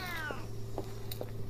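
A cat meows in the video game Memoranda, one drawn-out, sliding meow at the start followed by a few short, softer sounds over a steady low background hum.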